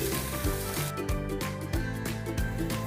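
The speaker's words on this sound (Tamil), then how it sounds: "கொஞ்சம் கருவேப்பிலை போட்டுட்டு கொஞ்சம் பூண்டையும் அது கூடவே சேர்த்து வதக்கிடலாம்" Grated coconut, curry leaves and garlic sautéing in a pan for a country chicken curry, a constant close sizzle with rhythmic scraping strokes of a spoon against the pan roughly every half second.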